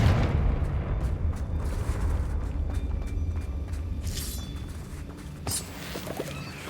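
A Confringo blasting curse in the video game Hogwarts Legacy lands as a deep, rumbling boom that rolls on and slowly fades, with a few sharp crackling pops breaking through near the end.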